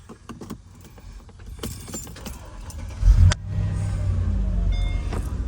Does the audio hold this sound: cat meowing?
no